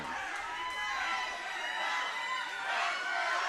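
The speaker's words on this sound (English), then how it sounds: "The crowd on their feet clapping along." A wrestling crowd at a DCW Synergy event cheers and claps along, a broad continuous wash of crowd noise that stays loud and steady throughout, swelling slightly near the end.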